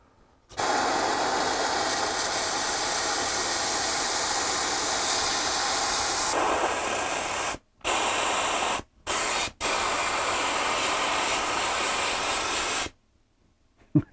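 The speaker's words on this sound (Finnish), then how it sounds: "mulla on tämä höyrykone tässä ja ajattelin käydä vähän tällä höyryllä läpi" A steam cleaner blasts a loud, steady hiss of steam over the seats of an Audi S2, running alone for long stretches, briefly cut off twice and pausing before ending with a few faint clicks.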